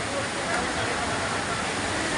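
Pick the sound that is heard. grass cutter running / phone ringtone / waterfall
waterfall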